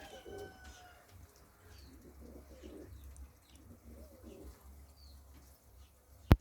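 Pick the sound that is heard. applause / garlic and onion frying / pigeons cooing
pigeons cooing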